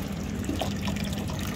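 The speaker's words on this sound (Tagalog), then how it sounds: "Banlawan ko lang dito guys, kasi may mga lupa." Running water splashes steadily while produce such as apple and celery is rinsed of mud and soil, a close, continuous wash with no pauses.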